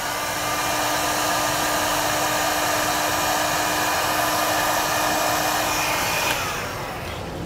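A heat gun blowing to shrink heat shrink butt connectors, a steady loud whooshing drone held for about six seconds before tapering off, with no speech.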